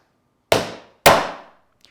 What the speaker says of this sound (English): You can also hear the difference when it's driving a nail